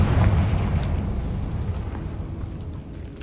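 A Confringo blasting spell explodes in Hogwarts Legacy: a heavy, low rumbling blast right at the start that slowly fades over a few seconds, close and fairly loud.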